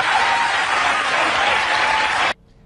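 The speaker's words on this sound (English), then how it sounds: "the mind-numbed robots in the crowd applaud because they love Planned Parenthood" A studio audience at a political talk show breaks into dense, steady applause that holds at full strength, then cuts off abruptly near the end, leaving near silence.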